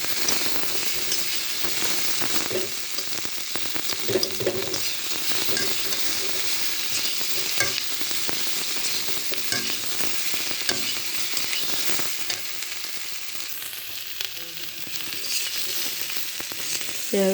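Potato pieces fry gently over low heat in a pan with green chilies and chili powder, giving a steady, continuous sizzle and hiss with occasional stirring scrapes throughout.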